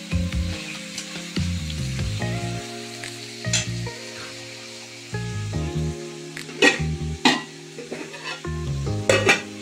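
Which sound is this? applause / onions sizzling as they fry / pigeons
onions sizzling as they fry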